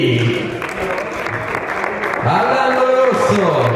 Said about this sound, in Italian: accolto ovviamente dall'applauso